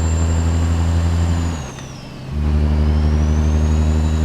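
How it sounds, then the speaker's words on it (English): A CAT C15 truck engine in a driving game drones steadily with its turbo whining high above; the pitch dips briefly during a gear change, then the engine and turbo spool back up, loud and close. "you can just hear that turbo spool up like crazy when we do that"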